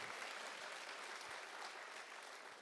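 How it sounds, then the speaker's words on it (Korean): An audience at a seminar claps continuously, a soft, dense patter of many hands heard at a distance, with no voices over it. "자기 자신에게 뜨거운 박수 한번 보내고 시작해 볼까요?"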